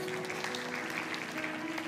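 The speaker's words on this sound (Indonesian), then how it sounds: "Kasih tepuk tangan." Audience applause during a church sermon, a dense, steady wash of clapping that runs through the whole moment, with a faint tonal hum underneath.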